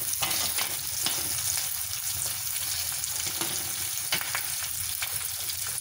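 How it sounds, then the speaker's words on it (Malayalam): Green chillies fry in hot oil, giving a continuous, even sizzle with a dense crackling texture and occasional sharper pops, heard close and alone throughout. "പച്ചമുളക് ഒന്നിപ്പോൾ ഒന്ന് മൂത്ത് വരുന്നുണ്ട്"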